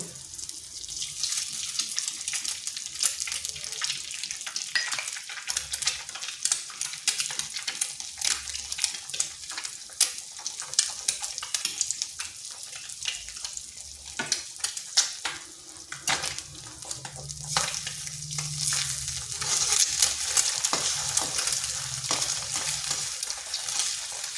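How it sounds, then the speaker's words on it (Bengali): An egg fries in a little oil in a pan, a continuous sizzle with frequent crackles and pops, close by and fairly loud, with no talking. "এখানে সামান্য একটু তেল দিচ্ছি আর দিয়ে দিচ্ছি একটা ডিম"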